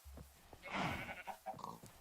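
A single short, faint sheep bleat from the Minecraft OceanBlock 2 modpack, heard alone and quiet.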